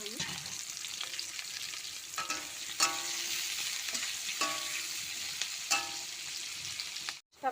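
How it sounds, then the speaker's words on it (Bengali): Onions sizzle steadily in mustard oil in a wok, with a constant frying hiss broken by several sharp scraping stirs and a brief clatter near the end. "পেঁয়াজ দিলাম, পেঁয়াজটাকে প্রথমে ভেজে নেবো আমি"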